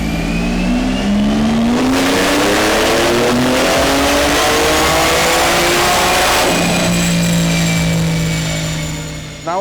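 A 2023 Porsche 992 Turbo S with a Stage 1 engine and PDK tune, about 735 horsepower, accelerates hard on a race track, its engine note climbing through a long loud run, dropping at an upshift, then pulling strongly again.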